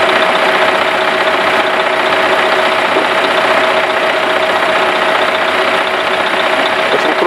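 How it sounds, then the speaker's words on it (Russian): A Grimme EVO 290 potato harvester moving fairly fast across a field runs with a steady, loud, continuous engine drone and mechanical rattle, unbroken throughout. "Да и сама машина картофелеуборочная передвигается по полю довольно-таки быстро"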